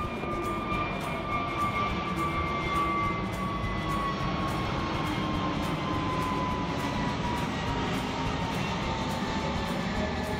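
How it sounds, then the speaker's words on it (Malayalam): An airplane passes near the Calicut Airport runway with a steady, loud roar and a high whining engine tone that slowly falls in pitch throughout, with no voices. "ഒരു ഫ്ലൈറ്റ് പോകുന്നുണ്ട്."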